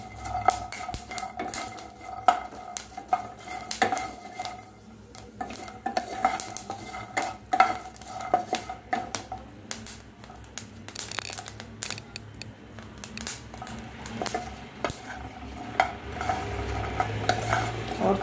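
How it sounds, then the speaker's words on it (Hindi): Sabudana roasting in a pan for a sabudana pulao, with steady scraping and clinking of a spoon against the metal and a faint sizzle underneath, continuous and close throughout. "और थोड़ा इसको रोस्ट करूंगी।"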